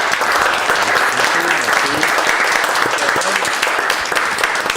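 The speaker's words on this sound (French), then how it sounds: "Puis je voudrais juste prendre 2 minutes pour me lever puis applaudir" A town council meeting audience in Grande-Rivière applauds in a steady, dense round of clapping that fills the whole stretch at close range, with faint voices underneath.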